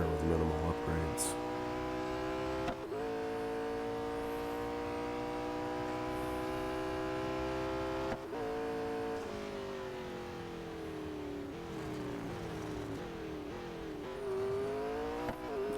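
A McLaren Senna engine in Real Racing 3 drones loudly and steadily, rising and falling with gear changes and revs through long pulls, under faint background noise.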